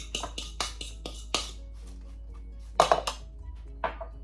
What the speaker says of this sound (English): I just dumped the graham crackers into the springform pan